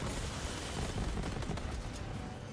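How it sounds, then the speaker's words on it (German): Rapid video-game gunfire from Borderlands 3, a dense stream of overlapping shots and bursts crackling continuously over a low rumble throughout, with no voice on top. "Was schießt denn da auf?"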